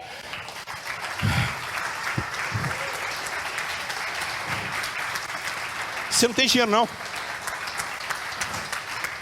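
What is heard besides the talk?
congregation applause for God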